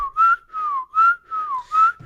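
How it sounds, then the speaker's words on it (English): A person whistles a short repeated two-note pattern, three clear rising-and-falling phrases close up, with no other sounds. "I can whistle blowing in, and I can blow it out"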